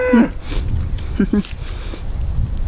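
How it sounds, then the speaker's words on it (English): Cows in heat mooing on a small farm, a couple of short low calls amid outdoor ambience and rustling. "My cows are in heat."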